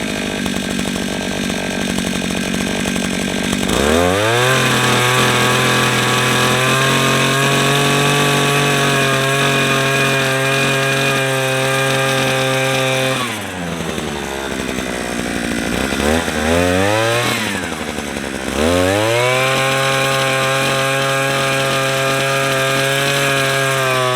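A gas-powered post hole auger from Amazon, new out of the box, starts up and drills a test hole in the ground: loud, steady two-stroke engine drone that dips briefly as it bogs and revs back up, with no talk.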